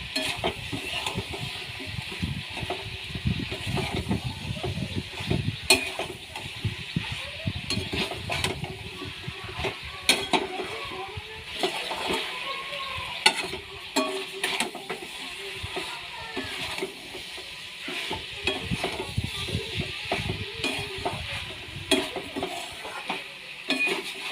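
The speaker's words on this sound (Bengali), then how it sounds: "ভালো করে মশলাটা কষে নেব।" Spice masala stir-fried in a pan, with busy rhythmic scraping and clattering of a spatula against metal over a low, constant sizzle, close and continuous throughout, with no speech.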